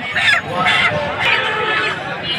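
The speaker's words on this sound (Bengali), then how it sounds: "এই যে এখানে আসছে মুরগি দেখেন, দেশি মুরগি এগুলা" Native chickens at a busy rural poultry market, clucking and squawking close by in a steady, loud cluster with crowd noise beneath.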